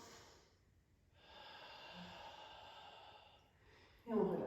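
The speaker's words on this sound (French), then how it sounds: "Encore une respiration." A deep, slow breath taken during a Foundation Training posture exercise, a soft airy inhale-exhale lasting a few seconds, close and quiet, with no talking over it.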